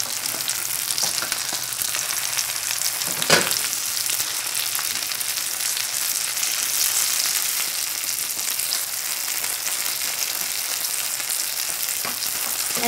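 A Korean seafood green onion pancake fries in oil in a pan, giving a steady, even sizzling hiss throughout with one brief clatter near the start.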